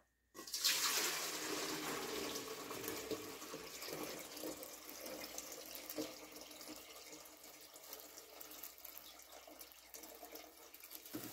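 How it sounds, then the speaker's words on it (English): Water pours steadily out of a bucket for a pet leech's tank, a continuous soft splashing gush that starts abruptly and slowly tapers, quiet and close with no talking. "So I'm going to go ahead and pour almost all of this out."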